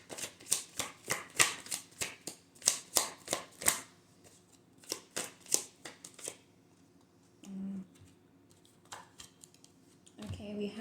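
Tarot cards shuffled in quick, crisp riffling bursts, then a few softer slides as cards are drawn from the deck, close and clear with a voice in the pauses.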